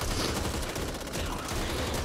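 Gunfire in the zombie shooter Back 4 Blood: dense, continuous automatic shooting with a steady roar of overlapping shots, loud and sustained throughout with no clear pauses.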